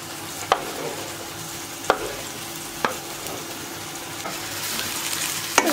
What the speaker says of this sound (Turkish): Karıştırıyorum. Soğan ve biberler kavrulana kadar pişiriyorum.